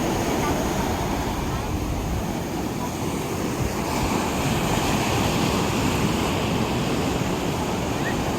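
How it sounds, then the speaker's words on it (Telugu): A steady roar of surf and wind, with strong sea waves crashing continuously and loudly nearby on a beach. "అలలు అయితే భయంకరంగా అయితే వస్తున్నాయి"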